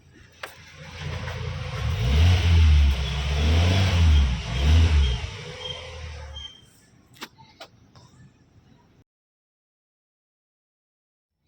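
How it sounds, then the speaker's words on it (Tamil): A stock 2015 Maruti Suzuki Swift petrol engine revs hard several times in a row, rising and falling in close, loud surges, then settles back to a steady idle before cutting off. "இப்போது இது ரேஸ் பண்ணி காட்டுறேன். அந்த வண்டி ஸ்டாக்கில் இருக்கிற வண்டி தான். இன்ஜினோட சவுண்ட் மட்டும் எப்படி இருக்குன்னு கேளுங்க."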